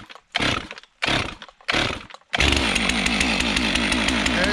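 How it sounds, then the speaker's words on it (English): A Stihl MS 362 chainsaw on a cold start: three loud rasping starter-cord pulls with short gaps, then the engine catches and runs in a steady loud, buzzing idle. "I'll give it a couple pulls and you'll see a cold start."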